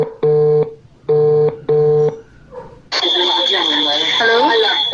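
Three evenly spaced beeps of a telephone busy signal on a failed call over a poor network, followed by a dense burst of mixed electronic tones and babble.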